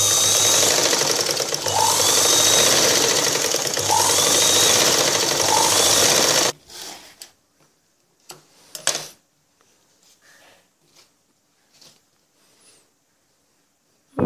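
A sewing machine stitches along the wrong side of blouse fabric in a steady, loud whirring run for several seconds, then stops, leaving a few faint clicks and handling taps.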